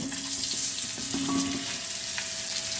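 Pointed gourd (potol) added to hot oil in a pan for potol kasha, giving a loud, close, continuous frying sizzle with faint tonal squeals rising through it, with no voices.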